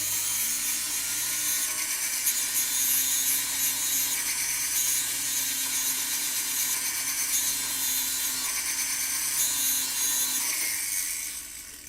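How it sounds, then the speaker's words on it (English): Hand sanding a wooden joint, a steady close rasping scrub of abrasive on wood that continues evenly for several seconds before easing off at the end. "Let's do a little bit more sanding and get that down."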